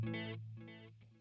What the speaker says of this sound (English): Go to tape delay.